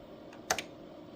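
On a vintage Apple II Plus keyboard, one keystroke clicks sharply, a short, crisp tap with a faint follow-up, heard close in a quiet room.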